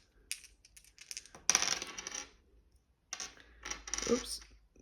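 Dice rattling and tumbling on a hard surface at home while cash envelopes are sorted, in two quick bursts of clattering separated by a pause, with a faint voice nearby.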